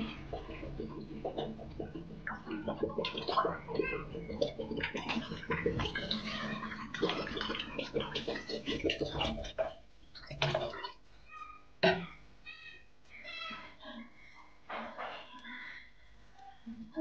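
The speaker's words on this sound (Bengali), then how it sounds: "এবার এর ভিতর দিয়ে দেব পরিমাণ মতো পানি।" Water is poured into cooked spice masala for a tilapia fish curry, making a busy, close rush of splashing and gurgling for about ten seconds, then sparser, fainter splashes and bubbling.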